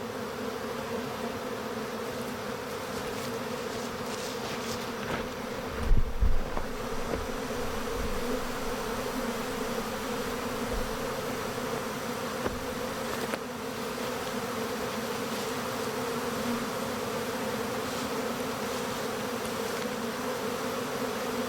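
A honeybee swarm pours out of a small, queenless hive. The dense, steady buzzing of many bees runs continuously throughout, with a brief muffled bump near the start of the second quarter. No one speaks.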